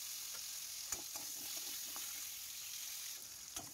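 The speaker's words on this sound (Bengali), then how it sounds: "এর মধ্যে আমি পেঁপের টুকরোগুলো দিয়েও একটু হালকা করে ভেজে তুলে নেব।" Papaya pieces fry in oil with a soft, steady sizzle, quiet and even, broken by a few faint clicks of a utensil.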